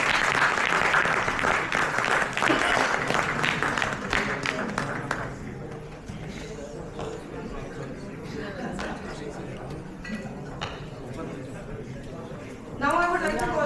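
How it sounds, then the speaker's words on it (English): Audience applause at a corporate policy paper release event, loud dense clapping for about five seconds, then fading to sparse scattered claps and murmuring before a brief louder burst at the end, with speech mixed in. "Can I have a very big round of applause"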